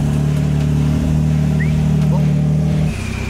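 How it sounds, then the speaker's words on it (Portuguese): A Porsche 992's engine idles and runs steadily up close as the car is moved slowly, a strong low drone with a slight shift in tone before it eases near the end. "Agora eu vou colocar o carro ali"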